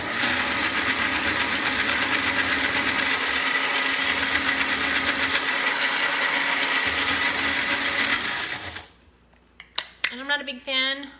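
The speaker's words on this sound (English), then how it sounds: "So this isn't your best blender for the ginger and the garlic." A kitchen blender whirs steadily and loudly for about eight seconds while blending a ginger and garlic dressing, then stops and a person starts talking.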